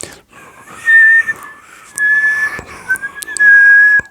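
Palate whistle shaped by a lip-and-teeth warble: clear, fairly loud whistled tones in three separate bursts, each wavering and sliding slightly in pitch, with a breathy, windy hiss beneath and short gaps of quiet between.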